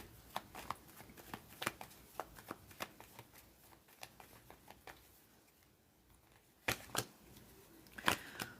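Tarot cards being shuffled and drawn, with quiet, close, irregular snaps, flicks and soft slides of the cards, no voices.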